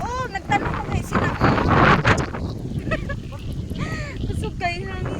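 Wind buffets the microphone outdoors as a loud, rumbling gusty roar that swells and fades, with people talking over it throughout.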